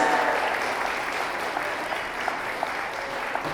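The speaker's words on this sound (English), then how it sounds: "If we can give her a round of applause." Wedding guests at a reception give a sustained round of applause for the groom's grandmother, steady clapping from a spread-out crowd with a few sharper claps standing out near the end.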